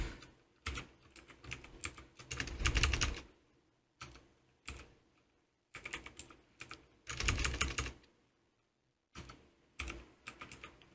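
A folder name is typed on a computer keyboard while a shared folder is set up on a Synology NAS, heard as close, rapid bursts of key clicks separated by short pauses, with several denser flurries, and no talking.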